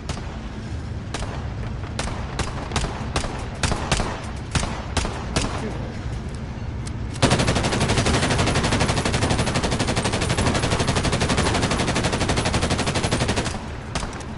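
Gunfire in the battle royale game Warzone: scattered single shots crackle for several seconds, then a dense, loud continuous burst of automatic fire takes over and runs nearly to the end.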